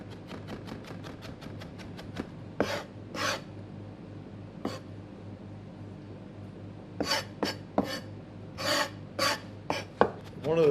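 A knife chops ginger on a wooden board, with a run of quick, even taps followed by scattered sharper knocks and scrapes, close and clear with no talk.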